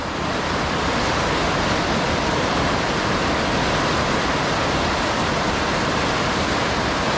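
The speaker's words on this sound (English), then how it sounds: "that ungodly noise you hear is the rain beating on my tin roof" Heavy rain drums steadily and loudly on a tin roof, a dense unbroken roar of hiss and patter with no pauses.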